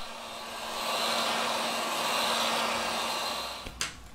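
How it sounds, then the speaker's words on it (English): Heat is blown onto a Xiaomi Mi Mix 2S smartphone to loosen its battery cover: a steady, close, whooshing blower rush with a low hum that swells and holds for several seconds, then stops with a brief click near the end. "we apply heat to the device to remove the battery cover."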